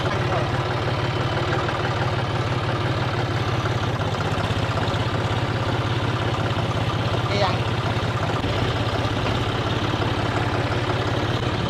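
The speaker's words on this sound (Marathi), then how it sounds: "अरे चालवतोय ट्रॅक्टर माऊली." A tractor engine runs steadily in an open farm field on a windy day, a constant, loud low drone with voices talking over it.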